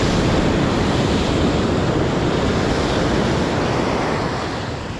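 Strong ocean waves crash continuously on a fishing spot, a loud, dense roar mixed with gusting wind buffeting the microphone, easing slightly toward the end.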